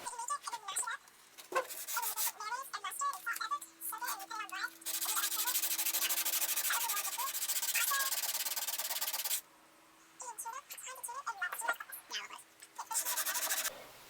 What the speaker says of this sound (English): It's time to go ahead and do a little bit of hand sanding